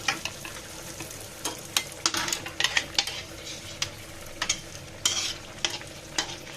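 Pua pitha batter fries in a pan of oil with a low crackling sizzle, broken by irregular clicks and taps of a spoon against the pan.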